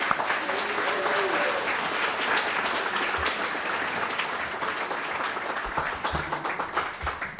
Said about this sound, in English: Another round of applause for our inductees.